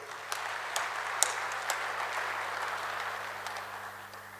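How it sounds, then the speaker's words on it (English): Audience applause in a hall at a defence and security expo in Kampala, a steady wash of clapping with a few sharper claps standing out, moderately distant and fading slightly toward the end. "I think he deserves a louder applause."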